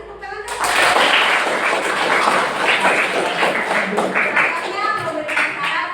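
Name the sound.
classroom applause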